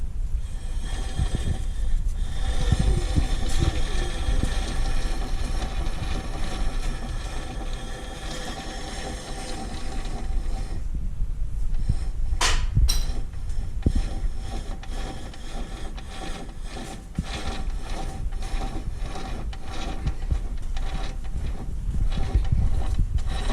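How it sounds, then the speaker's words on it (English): Winch rope being pulled off a winch drum produces a run of clicking, ratcheting mechanical rattles with a few sharp snaps, close and fairly loud, continuing without speech. "My assistant is going to go ahead and remove the winch rope from the drum."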